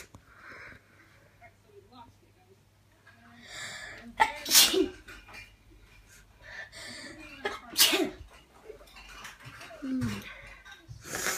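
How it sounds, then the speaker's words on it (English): Two sharp, loud sneezes burst out a few seconds apart, with quieter sniffing and breathing between them and a person talking in the background of an indoor space. "Why do I keep sneezing?"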